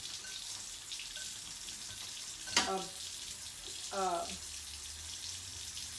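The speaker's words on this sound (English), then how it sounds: "So we'll get them in the fryer and start frying them." Breaded seafood deep fries in oil with a steady crackling hiss throughout, broken by a couple of faint metallic clinks.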